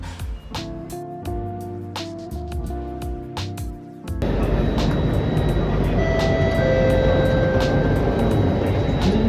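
A driverless Singapore MRT Circle Line train runs fully underground, starting quieter and then swelling into a loud, steady roar of wheels and tunnel noise that continues to the end.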